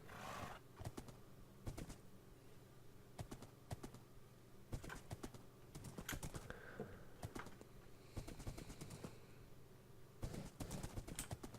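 Horse hooves clip-clop in the video game Minecraft, steady hoof steps scattered through the stretch at moderate volume, mixed with faint ambient bird chirps and irregular clicking.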